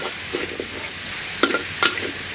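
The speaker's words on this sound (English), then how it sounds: "Kaprao fried rice." Kaprao fried rice is stir-fried in a wok at a Bangkok street stall: a low sizzle runs under scattered scrapes and two sharp clanks of the spatula against the metal pan.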